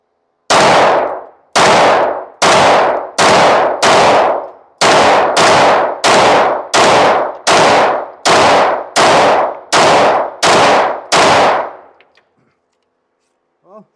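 A Ruger pistol fires fifteen Blazer 115 grain rounds in a steady, evenly spaced string of sharp, loud shots with short echoing tails, followed by silence and a faint metallic clink.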